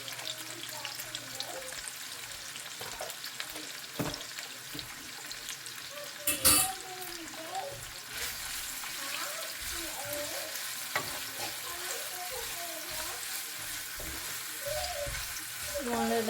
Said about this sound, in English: You want to let this fry it up